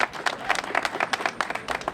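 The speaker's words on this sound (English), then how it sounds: "let's give a round of applause for that." Outdoor crowd at a Pride progress flag raising ceremony breaking into applause, a dense burst of clapping from many hands that holds steady throughout.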